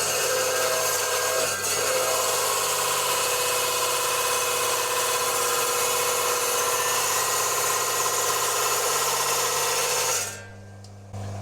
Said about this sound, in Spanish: Empezamos a serrar.